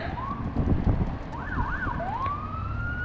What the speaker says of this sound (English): Got an ambulance coming here. I'm sure you can hear it.